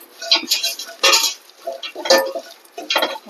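A spoon scrapes and clinks around a pan while coriander powder is stirred in during cooking, giving irregular metallic taps and scrapes, close and fairly loud, with no talking.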